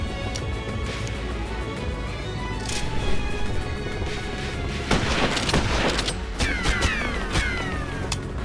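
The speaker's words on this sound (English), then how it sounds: "Bringing in the heavy artillery." Heavy artillery fire in the video game Like A Dragon: Infinite Wealth makes dense, loud booms and rattling bursts of gunfire over a constant noisy roar, with sharp crashing blasts clustered toward the end.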